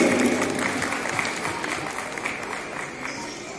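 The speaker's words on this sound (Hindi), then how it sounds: "एक बार जोरदार तालियां प्लीज हमारे एक्टर्स के लिए।" Audience at an International Women's Day event in a Chandigarh mall applauds the actors, with steady dense clapping throughout, fairly loud and close, and a faint murmur of crowd noise underneath.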